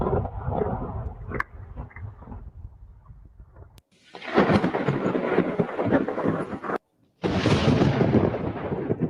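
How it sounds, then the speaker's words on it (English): Thunder from a lightning strike, played back from a video: a loud, broad rumble with a sharp crack near four seconds, then sustained heavy roaring bursts broken by a brief silence. "Power of lightning."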